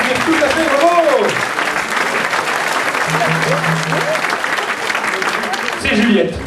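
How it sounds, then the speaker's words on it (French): Steady audience applause fills a concert hall after a children's quiz, with a speaking voice rising over the clapping near the start and again at the end. "On peut l'applaudir, le manger de Casimir, tout à fait, bravo!"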